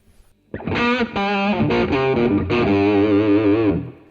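An electric guitar runs through a Boss DS-1 pedal with its distortion turned fully down, used as a clean boost. Loud sustained chords and notes ring out alone, fairly bright with a slight edge.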